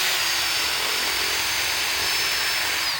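A power drill runs steadily at a high whine for the whole stretch, loud and close, with no talking over it.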